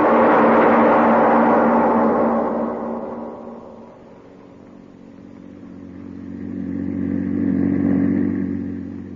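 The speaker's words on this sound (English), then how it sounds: "The publisher and his chauffeur are driving along a country road." A car drives along a country road in a 1942 radio drama, its engine a steady mid-pitched hum that fades down midway and then swells back up, with no voices over it.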